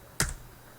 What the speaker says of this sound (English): you need to press enter on your keyboard